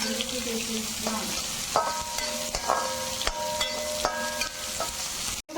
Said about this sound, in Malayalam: പിന്നെ അതിൻ്റെ സവാള എടുക്കും, പിന്നെ പച്ചമുളക് ചേർത്തിട്ട് ചെറുതായിട്ടൊന്ന് ആക്കിക്കൊടുക്കും.